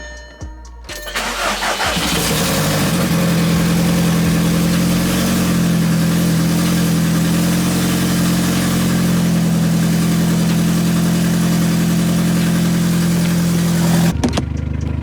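A Volkswagen Jetta engine cranks briefly and catches, then settles into a steady, loud, close idle with a low hum that runs for over ten seconds before cutting off.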